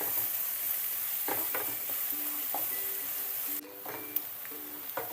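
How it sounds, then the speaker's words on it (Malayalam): Onions sautéing with a spoonful of salt in a pan for a pepper chicken, a steady soft sizzle with a few stirring scrapes and clinks, close and alone without voices. "അതിട്ടിട്ട് നന്നായിട്ടൊന്ന് സവാള ഒന്ന് നന്നായി വഴറ്റിയെടുക്കുക"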